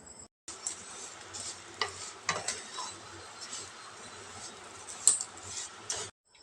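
Vermicelli roasting in ghee in a pan over a low flame, a soft, steady sizzle with intermittent scraping and stirring strokes and a few light ticks against the metal, close by and alone.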